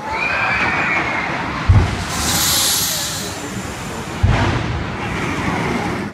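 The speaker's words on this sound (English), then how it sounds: "Something cool about this ride is the sound of the launch. It literally goes off with a bang." Pneumatic air launch of the Maxx Force roller coaster at Six Flags Great America, heard as two sharp, booming bangs a few seconds apart over steady outdoor park rumble, with a hissing rush of air between them.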